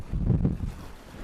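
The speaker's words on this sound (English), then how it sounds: "Sitting on a rock, sun's going down, watching the waves, feeling the wind." Wind gusting at a rocky shoreline at sundown, with a low, rumbling roar of waves and buffeting wind noise across the microphone, swelling briefly then easing, no voices.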